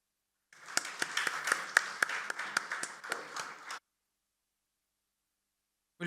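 An audience at a leadership summit session claps steadily through a memento presentation, a dense patter of hands lasting about three seconds before cutting off into silence.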